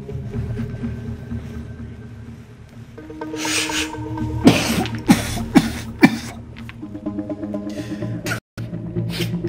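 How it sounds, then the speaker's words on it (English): Several harsh coughs close by, coming in quick succession after some rustling. "This is not ordinary cough."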